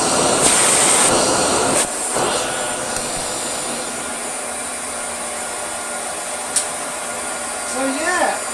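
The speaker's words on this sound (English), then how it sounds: "And this hose still has a lot of its suction." A refurbished Hoover Junior 119 vacuum cleaner runs with a steady, loud, whining motor drone that carries throughout, with a few faint clicks and bumps from the hose.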